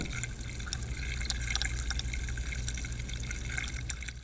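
Water runs from a bathroom tap in a steady close stream, with a low continuous hum underneath and small splashing drips throughout.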